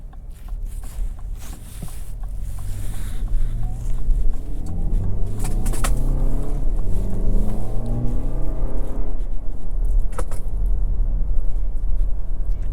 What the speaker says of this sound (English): Car's just very smooth and quiet at the light.